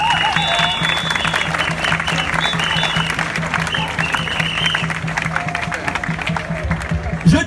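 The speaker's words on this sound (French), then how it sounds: "On applaudit quand même." A crowd at a youth rally applauds amid cheering and shouting, continuous clapping from many people with whistles and raised voices layered over it, loud and sustained.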